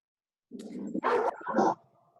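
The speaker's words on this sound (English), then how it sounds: "Sorry, that is my dog in the background." A dog barks in the background of a community town hall meeting: a few quick, moderately loud barks and yips in a short burst, then silence, with no talk over them.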